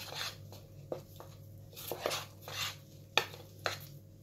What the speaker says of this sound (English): And then I'm going to give it a mix